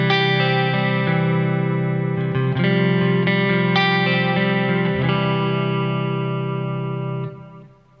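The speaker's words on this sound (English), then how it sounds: "I can kick in the delay I programmed. That has a fair bit of modulation on it" Distorted electric guitar runs through a programmed delay with heavy modulation on a Kemper Profiler. Sustained chords and picked notes shimmer and repeat with a wavering echo before the sound trails off at the end.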